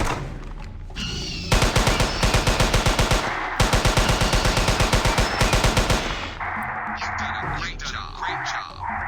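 Loud automatic weapon fire in the video game Jurassic Park Hunter Legends, during a hunt with raptors about: two long, rapid bursts back to back, then fading into quieter game ambience.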